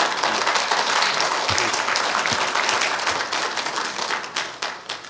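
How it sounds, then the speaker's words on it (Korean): A banquet crowd of families at a gathering honoring Vietnam War veterans claps loudly and steadily, dense applause with distinct individual claps emerging as it thins toward the end. "여러분 박수나 한번 보내주세요"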